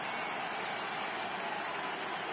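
Stadium crowd cheering in the MLB The Show 18 baseball video game, Cardinals home playoff game against the Cubs: a steady, dense wash of applause and crowd noise at a moderate distance, with no pauses and no talk.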